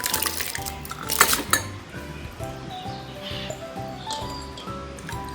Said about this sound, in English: Okay, so we mix that for 5 minutes.